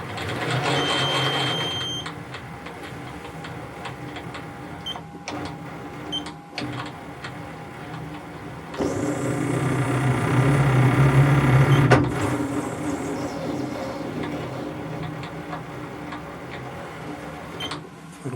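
A machine taps threads into a hole in a part for a compact power hacksaw's vice nut: a steady mechanical whir and grinding with intermittent clicks, rising in load partway through before the machine is stopped.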